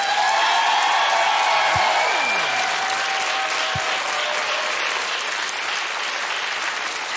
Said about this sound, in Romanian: haideți să-l primim cu cele mai puternice aplauze pe Nicușor Dan.